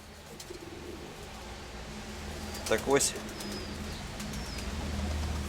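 Pigeons coo softly in the background, with a brief louder burst of calls partway through and a short spoken phrase.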